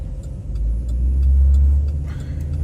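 GMC Yukon with a swapped 6.2 LS3 V8 engine on the road, a deep engine rumble that swells in the middle then eases, heard from inside the cabin.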